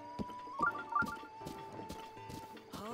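Horse at a stable in Zelda: Breath of the Wild, with a short whinny-like call and a few soft hoof and body sounds over quiet game ambience, close and moderate in level.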